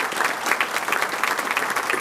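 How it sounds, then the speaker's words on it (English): An audience at a regional chamber of commerce business salute event claps together. The applause is dense, steady and fairly loud throughout the short stretch, with no talking over it. "Let's give ourselves a round of applause for all of our businesses, the success, and the blessings we enjoy."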